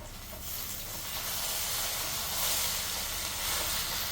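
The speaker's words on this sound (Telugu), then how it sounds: "చక్కగా అరటికాయ ముక్కలు అనేవి మగ్గడం మొదలుపెట్టినాయి" Plantain pieces cooking with turmeric in a pan give a steady, soft sizzle and hiss, fairly faint and continuous, with no one talking.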